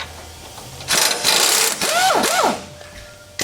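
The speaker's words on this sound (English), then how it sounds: "I'm just gonna get in here and take the track bar bolt out of the axle." An impact tool buzzes in short loud bursts, with whirring that rises and falls in pitch, as the track bar bolt is removed from the axle of a Jeep JK on a lift; it then goes quiet, ending in a sharp click.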